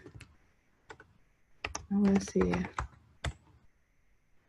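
Keys clatter on a computer keyboard as a web link is typed, scattered clicks building into a quick burst of typing, with a voice briefly speaking.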